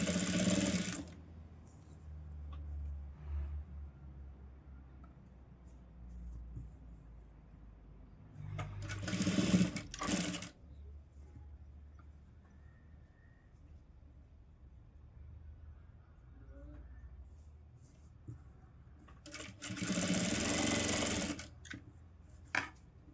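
A sewing machine stitches piping onto a blouse in short bursts, running briefly near the start, again around the middle and once more near the end, with quiet handling between runs.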